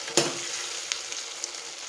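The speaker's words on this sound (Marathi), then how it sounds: "टोमॅटो अगदी छान प्रकारे इकडे फ्राय होत आहे" Tomatoes fry in a pan for Nilanga rice, making a steady, close hiss and sizzle with one sharp clack at the start and a few faint ticks after.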